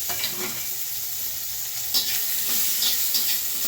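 Chopped onion, garlic paste and tomato fry in oil with a steady, close sizzle, broken by a few scrapes and clinks of stirring.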